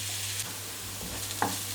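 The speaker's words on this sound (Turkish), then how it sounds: "Öncelikle soğanları kavuruyorum." Steady sizzling of onions sautéing in a pan, with a low hum underneath and a couple of brief scraping stirs near the end.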